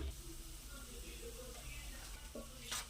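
Tempering seeds sizzle in hot oil in a pan, a steady close-up crackle that swells into a brighter hiss near the end.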